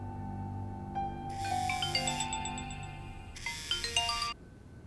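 A phone ringtone plays a bright, repeating melodic chime in two bursts over a low hum, then cuts off.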